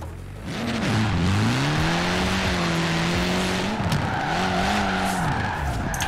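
Tires squeal and skid continuously as an all-wheel-drive car drifts in Forza Horizon 4, engine tone wavering underneath, loud and steady for the whole stretch with no talking.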